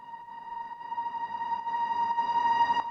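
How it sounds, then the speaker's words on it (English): Reversed reverb shots from a lead synth in a liquid drum and bass track, a sustained bright tone that swells steadily louder toward the end, playing alone. "then there's this other part, which are these reversed reverb shots"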